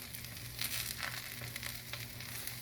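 Custard-soaked bread toast frying in melted butter in a pan, a steady close sizzle and crackle with soft spatters throughout, no talk.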